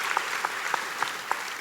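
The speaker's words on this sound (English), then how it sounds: "So give yourself a round of applause." A graduation audience clapping for graduates, a brief, thin burst of applause with a few distinct claps in a regular rhythm, moderately distant.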